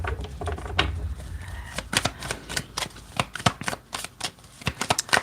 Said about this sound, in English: Maybe it'll reveal itself as I continue to shuffle.